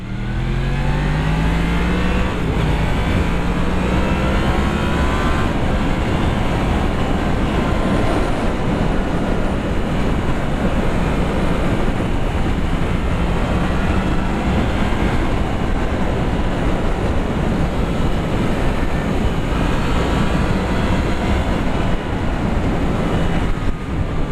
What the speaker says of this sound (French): c'est un 4 cylindres en ligne qui est calé comme un V4, si je dis pas d'annerie. D'où la sonorité un petit peu différente